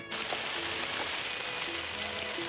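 Steady, dense hiss of heavy rain falling in a 1984 Hindi fantasy film, a continuous wash of drops on surfaces with no break, loud and close.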